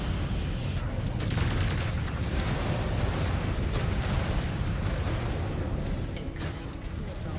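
Rumbling missile explosions and weapon fire from the mech combat game Mechwarrior 5: Clans form a continuous heavy, booming barrage with sharp cracks layered over a deep roar, steady and loud before tapering near the end.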